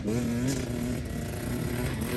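A motorbike ridden at a training session, its engine a steady loud drone with a rising, wavering pitch as speed builds, continuous close-up with no pauses.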